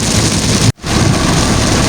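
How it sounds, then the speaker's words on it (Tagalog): Heavy rain pours steadily on a vehicle at night on a dark road, a dense, loud roar with a brief near-silent dropout partway through before the downpour resumes. "Grabe, ang lakas ng ulan."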